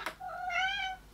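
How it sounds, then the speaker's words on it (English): A cat gives a single clear meow, rising then falling over about a second, close and fairly loud, after a short noise at the start and with no talking. "that's a cat"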